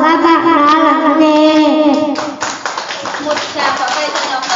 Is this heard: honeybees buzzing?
no